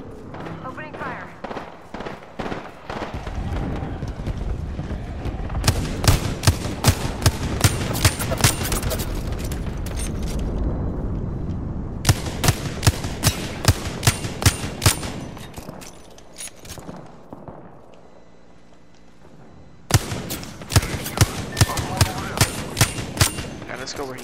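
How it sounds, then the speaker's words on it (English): Rapid automatic gunfire from Revenant in Apex Legends, loud repeated bursts of shots separated by short pauses, with a player's voice talking under the shooting. "Opening fire."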